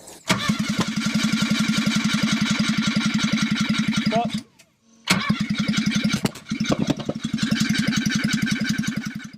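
A Ford ST170 engine fitted in a Mk1 Escort cranks repeatedly with a fast rhythmic churning, pauses briefly, then cranks again in long bursts without catching, close and loud with no talking.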